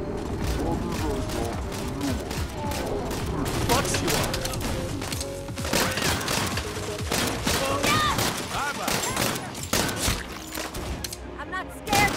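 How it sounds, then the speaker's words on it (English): Dense, continuous enemy gunfire fills the Saints Row reboot game, with overlapping bursts and rattling shots pressing close and loud throughout, mixed with mechanical clatter and crashes; a voice talks over the barrage. "They're just shooting the fuck out of me right now, bro."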